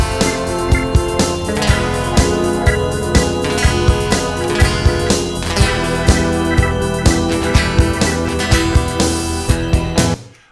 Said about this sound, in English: So this was the synthesizer we added on this bridge part